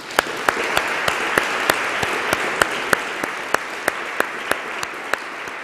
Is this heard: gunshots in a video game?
no